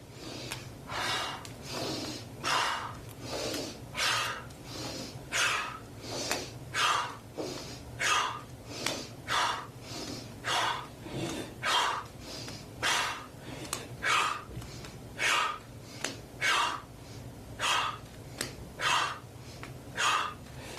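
Deep yoga breathing during a flowing practice session, slow rhythmic inhales and exhales repeating roughly every second, close and audible with a faint hum beneath and no talking.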